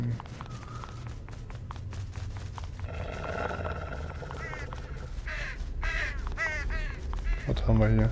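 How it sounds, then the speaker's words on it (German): Crows caw in a series of harsh, repeated calls at Krähenfels in the Sacred video game, rising in the second half over a dense ambient game backdrop, with someone talking throughout. "Die schwarzen Vögel, die sich hier an den Gerichteten der Dümmerdreischen Justiz laben, gaben diesem Ort seinen verdienten Namen"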